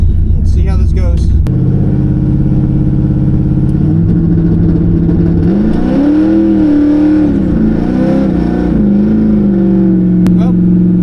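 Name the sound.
LS2-swapped El Camino launching with tires spinning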